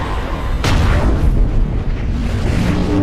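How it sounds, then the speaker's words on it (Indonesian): A torpedo explodes near a submarine: a sudden deep boom bursts out, then a heavy rumbling roar rolls on and sustains at high volume. "Ledakan torpedo di dekatnya membuat kapal selam itu tidak berdaya dan naik ke permukaan."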